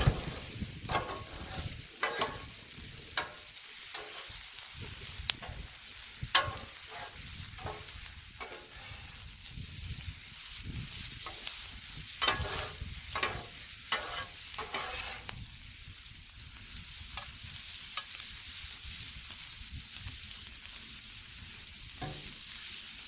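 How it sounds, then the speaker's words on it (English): Cabbage, sausage and bacon fry on a Blackstone griddle with a steady close sizzle, while a spatula scrapes and taps the hot steel again and again in irregular strokes. "Alright, we're gonna give it a stir here."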